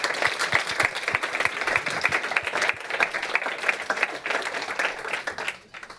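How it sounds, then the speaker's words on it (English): Audience applause closing a panel session at a European policy forum, steady clapping from a hall crowd lasting several seconds before tapering off at the end. "Round of applause, please"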